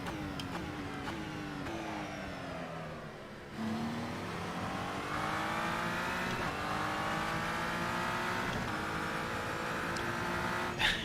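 GTE race cars lapping in Assetto Corsa during an endurance race at Daytona, engines droning steadily with shifting pitch as gears change, a brief lull then sustained loud revving, no talk.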